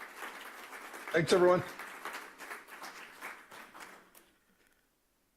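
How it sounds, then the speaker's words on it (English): Audience applause for a speaker at an AI conference for real estate agents, a moderate burst of clapping that fades out by about four seconds, with a voice talking over it near the start. "Please, a big round of applause for Glenn."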